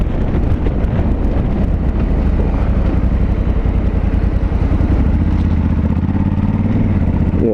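A 2020 Honda Africa Twin motorcycle rides at minimum throttle, short shifting up through the gears, its engine a steady low drone under heavy wind rush against the microphone, with the pitch climbing near the end.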